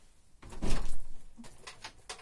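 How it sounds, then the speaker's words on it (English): A door is opened with a loud thunk and rattle midway, followed by lighter clattering and knocks as it swings, heard up close indoors. "I just tried to open the door."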